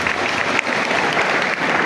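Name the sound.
audience applause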